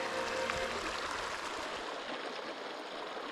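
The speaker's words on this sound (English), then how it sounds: "Pretty cool creek." A creek along the Pacific Crest Trail flows steadily nearby, a continuous broadband rushing and gurgling wash that stays even throughout with no voices.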